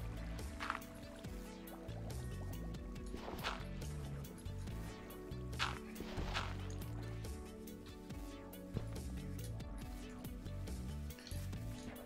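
Flowing water in Minecraft Bedrock Edition on Nintendo Switch, a steady liquid trickle and wash that runs through the whole stretch beneath layered game music.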